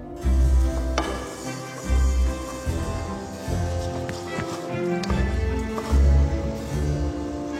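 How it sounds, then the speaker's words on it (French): Rice sautéing in a generous amount of butter in a pan, with a steady sizzle and occasional stirring clatter, close and fairly loud with low background rumble. "Il ne lésine pas davantage sur le beurre pour faire revenir le riz."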